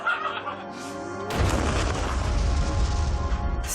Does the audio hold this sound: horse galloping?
no